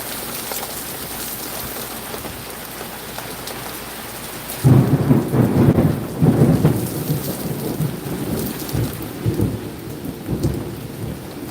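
Steady rain falls in a thunderstorm, loud and close. Deep thunder rumbles in heavy bursts partway through, then rolls on under the downpour.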